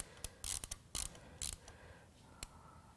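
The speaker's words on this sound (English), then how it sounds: "I insert this tool, and then I can rotate the eccentric shaft" A tool turns the eccentric shaft inside a BMW N20 engine head, giving a run of quiet metallic clicks and ratcheting scrapes in short bursts, with a couple of isolated clicks near the end.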